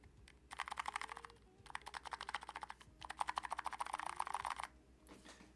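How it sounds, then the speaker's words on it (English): Typing on a custom-built Metacubes Metapulse mechanical keyboard: quick bursts of crisp key clacks in three runs separated by short pauses, close and fairly quiet, with no talking. "It is my favorite keyboard lately to use for typing when I go to work"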